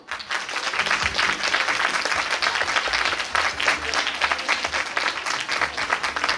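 A theatre audience at a song contest final gives sustained, dense applause, a continuous loud wash of many hands clapping for over six seconds with a crowd murmur beneath.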